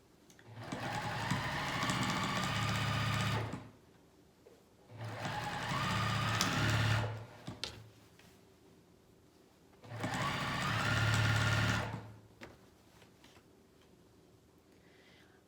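A domestic sewing machine runs a straight stitch with needle centered and zero width, sewing pajama pant seams in three steady bursts of a few seconds each, separated by short pauses, fairly quiet and close.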